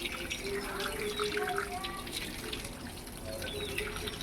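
Tap water runs steadily into a sink while bata fish are washed, a constant splashing hiss with small drips and light clinks, close and fairly quiet.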